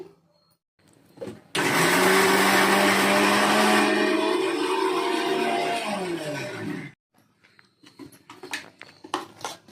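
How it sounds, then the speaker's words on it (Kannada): A mixer grinder grinding chutney whirs loudly for about five seconds, then cuts off abruptly, leaving quiet clatter and small kitchen noises. "ಈಗ ಚಟ್ನಿ ಮಿಕ್ಸಿ ಮಾಡ್ಕೊಂಬಿಟ್ಟು ಇಡ್ಲಿ ರೆಡಿ ಮಾಡ್ತೀನಿ"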